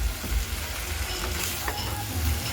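Boiled potatoes and cauliflower sautéing in spice paste in a pan, a close crackling sizzle with low stirring rumbles and scrapes continuing without pause.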